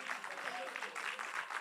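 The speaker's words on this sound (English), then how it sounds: "another round of applause for him." Audience applause at an awards night, a steady, dense clatter of many hands clapping that stays fairly even and moderately loud for its short length.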